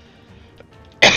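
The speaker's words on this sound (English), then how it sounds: "Need to cough in your ears." A single sharp cough bursts in close and loud at the end, after a stretch of quiet room noise.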